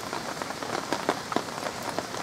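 Heavy rain falls on a lakeside carp-fishing spot, a dense, steady hiss of drops close by with scattered sharper patters on nearby surfaces and no voices.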